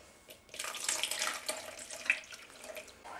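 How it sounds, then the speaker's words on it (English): 200 ml of milk is poured into a bowl of crumbled yeast for German Speckgugelhupf bread dough. The pour makes a close, splashy, continuous stream lasting a few seconds. "Add the milk, the 200 milliliter milk."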